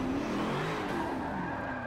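Rear-wheel-drive 1000+ horsepower car drifting in Forza 7 at Dubai circuit, tires squealing in a sustained skid over a droning engine, loud and steady for a couple of seconds, no voices.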